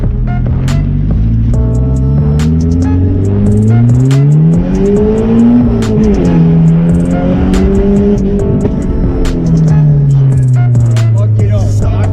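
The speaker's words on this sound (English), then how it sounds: "gonna introduce you to the Nissan Pulsar GTIR we got" A Nissan Pulsar GTI-R rally car's engine revs up and down repeatedly, loud and close, with the pitch rising and falling in long sweeps.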